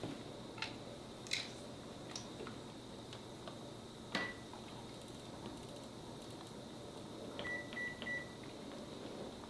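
A kitchen timer is set for pasta: scattered faint clicks and button taps, then a short run of quick electronic beeps near the end over a steady background hum, with no talking.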